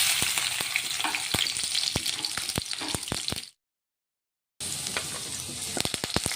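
Cumin, mustard seeds and finely chopped garlic sizzle loudly in hot oil, with a steady crackling hiss and sharp pops; the sound drops out for about a second, then the sizzling returns.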